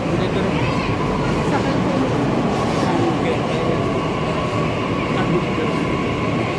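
A metro train rides along with a steady loud rumble and continuous track noise from inside the carriage, with voices mixed in under the din.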